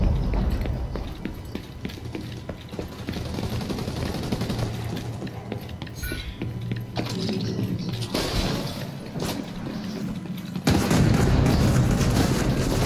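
Grenade blasts and gunfire in The Division 2 during a 4v4 PvP skirmish match, with dense, continuous booms and crackling shots throughout and a louder burst of explosions near the end.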